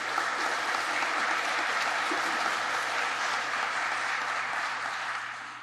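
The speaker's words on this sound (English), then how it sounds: "Let's give them a round of applause" Audience applause at a chief fire officer graduation ceremony: steady, dense clapping from a large crowd, sustained throughout and tapering off slightly at the end, with no talking over it.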